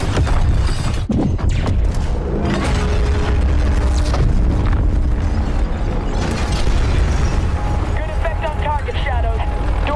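Explosions and booming gunfire in a Modern Warfare Season 5 match after a fuse is lit, loud dense bursts and rumbles throughout, with voices talking over the action.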